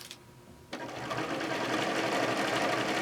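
A sewing machine running a decorative feather stitch on fabric starts abruptly after a short quiet moment, then hums and whirs steadily and close, rising slightly as it gets up to speed.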